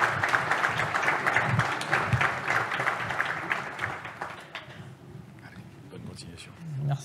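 An audience applauds Lana Damour at a performance awards ceremony: dense, steady clapping from a crowd that fades after a few seconds, with voices speaking over and after it.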